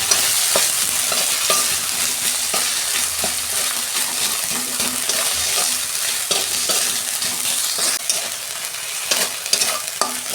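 Onion sautéing with ginger and garlic in a pan for a fish dish, a steady close sizzle broken by repeated scrapes and clicks of a stirring spoon, with no talking.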